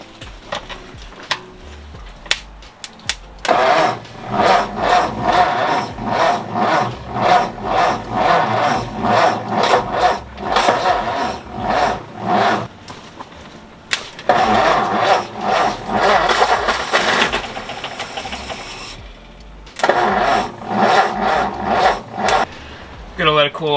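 A 1952 Ford F1 engine cranks over and stutters to life on poured fuel, firing in uneven bursts and cutting out between repeated cranking attempts, loud and close with people talking in between.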